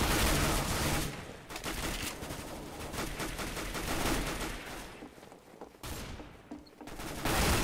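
UMP submachine gun fire in Counter-Strike: Global Offensive, rapid bursts of loud automatic shots with brief gaps between strings, rattling close up with no talk over it.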